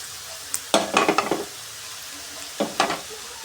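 Eggs fry in oil in a wok under faint, steady sizzling, broken by two bursts of stirring: quick scraping clatters of a spatula against the pan, close by.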